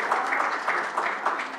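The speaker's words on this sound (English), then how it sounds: "Let's give him a round of applause." Brief applause from an audience at a school district business meeting, a soft, steady patter of many hands clapping at a moderate distance.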